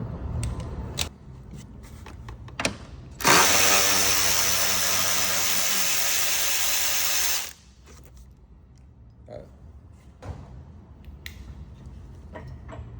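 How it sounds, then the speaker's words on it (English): A 10 mm radiator support bolt comes out of a 2020-2023 Jeep Gladiator or Wrangler EcoDiesel with a loud, steady power-tool whir lasting about four seconds, framed by faint clicks and handling noises. "take out this 10 millimeter bolt right here, the radiator support"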